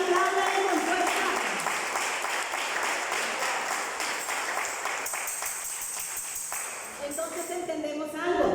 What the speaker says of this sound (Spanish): Y si le va a aplaudir, apláudale con fuerza